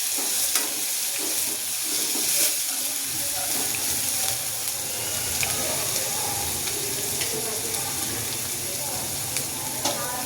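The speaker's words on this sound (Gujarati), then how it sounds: "રાઈ, જીરું, હિંગ અને આદુ અને લસણની પેસ્ટ એડ કરી દઈશું" Mustard seeds, cumin, asafoetida and ginger-garlic paste hit hot oil for a Gujarati val shaak, a loud, dense crackling sizzle with sharp pops, steady throughout and close by.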